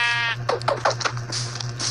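A goat in the Minecraft video game bleats in a short wavering cry, loud and close over a low steady game hum, followed by a few quick clicks and hits.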